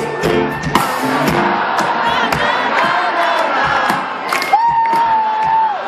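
Loud festival crowd at a pálinka festival concert in Gyula, cheering, whooping and shouting together in a sustained roar, with a pitched sustained voice line rising out of the noise near the end.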